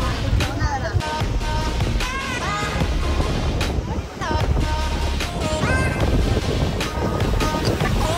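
Sea waves along the Gujarat coast on a Dwarka–Somnath–Diu trip, a steady broadband roar of surf and wind running through the whole clip beneath people talking close by.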